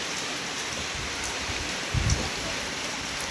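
Heavy rain pours steadily during a night storm, a dense, loud, continuous hiss with a brief thud of drops or wind around the middle.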